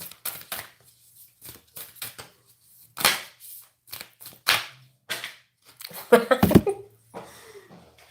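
A deck of oracle cards is shuffled by hand with sharp flicks and slaps, several cards spilling out in a quick clattering burst near the end, heard up close with no talk.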